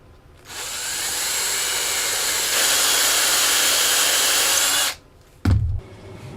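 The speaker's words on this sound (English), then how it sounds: "I'm going to drill a hole in it." A power drill whines steadily for about four seconds, close and loud, drilling a hole in a solid-body ukulele, then stops, followed by a brief low thump.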